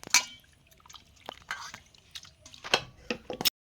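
Mutton pieces being washed in water, with sparse wet squelches, splashes and drips in short bursts, close and fairly quiet.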